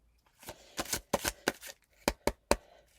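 Tarot cards are shuffled close by in a series of crisp riffling bursts, about eight quick papery flicks spaced irregularly across a few seconds with quiet gaps between.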